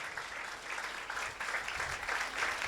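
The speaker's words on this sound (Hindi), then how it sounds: "उस यीशु के लिए जोरदार तालियां बजा दें" Congregation applauding during a church sermon, steady crowd clapping filling the hall at moderate loudness for a few seconds without speech.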